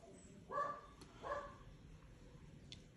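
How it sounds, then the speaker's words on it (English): A dog barks twice indoors, short sharp yips spaced under a second apart, then a faint distant yelp follows against a quiet room background. "Sorry about the dog."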